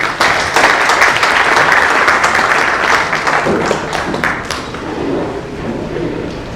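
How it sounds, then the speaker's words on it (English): Loud, sustained applause from an audience at the inaugural session of ISC 2023 in Jaipur, a dense wash of many hands clapping that carries steadily through the whole stretch and eases slightly toward the end. "an applause befitting none other than Mr. Pramod Agrawal."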